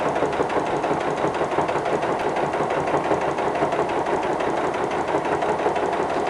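A sewing machine stitches a seam through layered rag quilt fabric with a fast, steady, rhythmic mechanical clatter that runs without a break from start to finish, heard close up.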